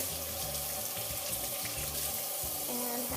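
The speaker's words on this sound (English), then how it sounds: "before I touch anything, you would want to wash your hands" Water runs steadily from a tap into a sink for handwashing before preparing lettuce, a continuous close splashing rush with no talk.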